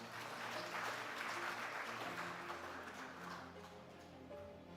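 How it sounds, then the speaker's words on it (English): Applause at a conference session of the ADFIAP Annual Meetings, a steady wash of clapping for about five seconds that fades slightly, with music or tones faintly underneath. "A round of applause, ladies and gentlemen."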